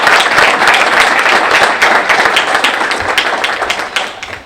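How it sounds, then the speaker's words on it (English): Audience applause for students after a university pitch competition, a dense sustained wash of many hands clapping, loud and close, tapering slightly near the end, no speech over it. "I think we should give these students a round of applause."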